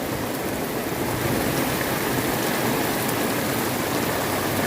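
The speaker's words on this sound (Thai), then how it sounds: "ฝนตกหนักนะครับฝนตกหนักนะครับวันนี้นะครับ" Heavy rain pours down steadily, a loud, dense, unbroken hiss of drops on surfaces with rushing water underneath, close and continuous with no voices.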